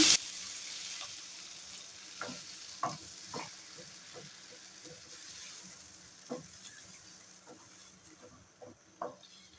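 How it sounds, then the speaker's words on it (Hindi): Water added to a hot pan of potato and cauliflower for aloo gobi sizzles faintly and steadily, with a few soft stirring knocks and no voices. "ये देखिए मैंने इसके अंदर पानी शामिल कर दिया है।"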